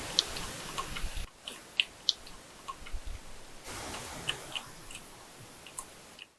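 A badger eating peanuts at night in a garden, close by: soft irregular crunching and clicking chews, with brief pauses, over a steady hiss of background noise.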